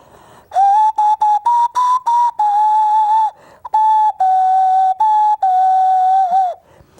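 A small whistle-like wind instrument plays a series of clear, bright notes, some short and tongued, others held, stepping up and down in pitch.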